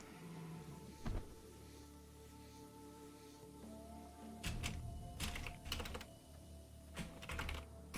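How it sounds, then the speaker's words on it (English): Keys clatter on a computer keyboard during a World of Warcraft session, fairly quiet bursts of rapid typing with a single sharp tap early on and denser clusters of keystrokes later, alone without speech. "Oh no, I was typing."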